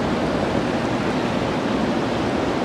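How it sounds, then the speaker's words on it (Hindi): A river by the Besham–Chillas road on the way to Hunza gives off a loud, dense, continuous roar of rushing water. The broad hiss holds steady and close the whole time. "ये इसका पानी और दरिया की जो आवाज़ है वो तो बहुत ही ज़्यादा खूबसूरत है।"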